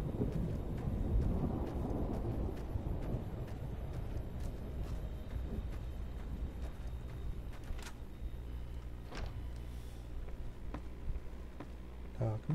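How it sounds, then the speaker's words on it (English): Rolling thunder rumbles through a stormy wasteland setting in Fallout New Vegas, a deep broad roar that swells early and then fades into a drawn-out low grumble with scattered crackles, heard with no talking. "I'll turn on thunder"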